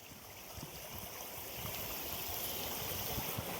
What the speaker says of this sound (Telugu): ఇదిగోండి ఇది వాగు.